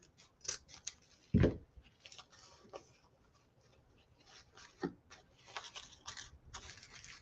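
Scissors snipping dovetail ends into ribbon for a wreath bow, a handful of crisp cuts with one louder snip near the start, close up and quiet otherwise.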